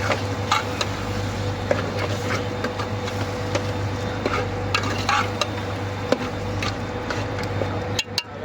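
Small prawns fry in a spice masala in a pan. A continuous close sizzle is peppered with sharp crackles and pops, with no talking.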